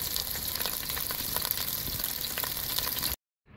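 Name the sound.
onion frying in an iron pan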